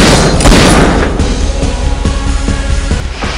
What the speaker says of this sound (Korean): 주인공은 이들을 향해 총을 쏘고